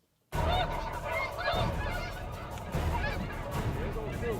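A flock of snow geese honking continuously in spring in Saskatchewan, many overlapping calls at moderate distance, with steady wind or field noise underneath.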